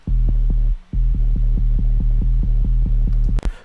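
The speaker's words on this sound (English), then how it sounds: "This is sub bass." Deep sub bass in a dubstep track made in FL Studio, a loud, steady low throbbing hum pulsing in a regular rhythm with a brief gap, heard alone.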